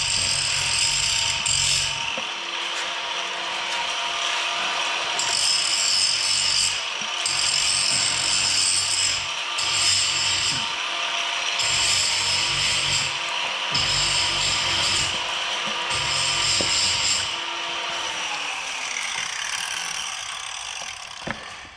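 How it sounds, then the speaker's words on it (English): A grinder works on a handmade tool in repeated passes, its steady whine rising into harsh grinding bursts every few seconds, loud and close throughout. "grinding on his tool he's making"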